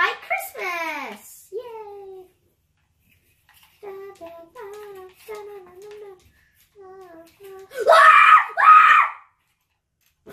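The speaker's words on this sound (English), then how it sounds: "Why are you screaming?" A young child screams in shrill bursts, with a first long scream, then a run of short high cries, and a louder double scream near the end, all close and loud against quiet pauses.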